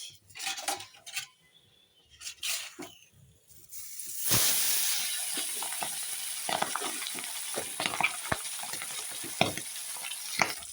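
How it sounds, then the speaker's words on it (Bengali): Pabda fish frying in hot oil, opening with a few scattered clinks of a spatula in the pan before a sudden burst of loud sizzling that continues steadily, punctuated by repeated scraping and tapping of utensils against the pan. "আগের মাছগুলো তো তুলে নিয়েছি এখন পরের মাছগুলো ভাজা হয়ে গেল"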